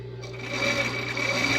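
Sewing machine backstitching slippery fabric along the strap seam of a ruffled strap dress, a steady close mechanical whir that builds slightly and runs continuously throughout.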